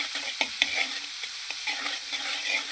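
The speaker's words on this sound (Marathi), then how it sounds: "बटर चांगलं मेल्ट झालं की त्यावर भरपूर असा लसूण बारीक चिरून घेतलेला आहे तो टाकून घ्यायचा" Finely chopped garlic fries in melted butter in a pan while it is stirred. A soft, steady sizzle runs under the occasional scrape and clink of a utensil against the pan.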